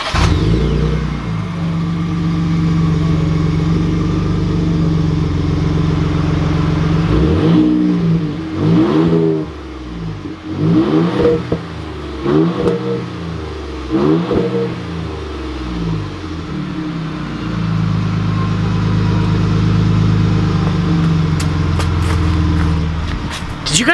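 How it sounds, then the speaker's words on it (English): A stock-exhaust 2020 Ford Raptor idles loudly, then revs hard several times in quick bursts. Each rev sweeps up and falls back, with small exhaust pops at the end, before the truck settles into a steady rumbling idle. "It kind of made like these like little like popping exhaust sounds."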